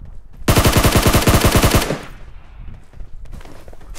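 Rapid automatic gunfire in a shooting video game, a loud sustained burst of about a second and a half of evenly spaced shots, then quieter game ambience.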